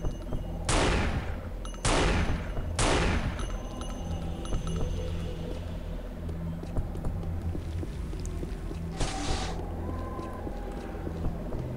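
Weapon fire in the game Unreal, three sharp loud shots in quick succession followed by a quieter stretch and one more blast later, over a constant low game hum.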